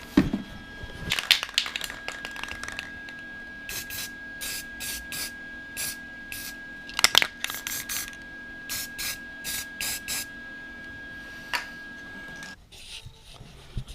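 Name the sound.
spray painting the repaired dirt bike frame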